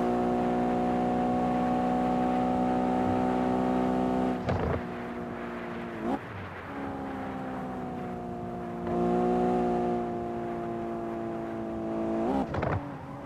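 Car engine in the Shutoko Revival Project racing game, a steady droning tone holding at speed with brief dips and shifts as gears change, loud and alone without talk.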